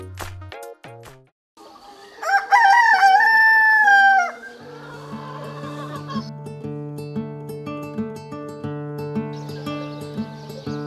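Among local free-range chickens kept at a home in Nepal, a rooster gives one loud, close crow, followed by steady clucking and calls from the flock.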